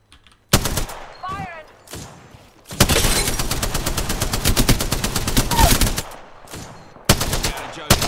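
Spitfire machine gun firing in Apex Legends gameplay, with a few single shots at first and then a long rapid automatic burst, loud and close, followed by more short bursts.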